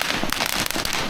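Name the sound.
small firecracker exploding, Chinese New Year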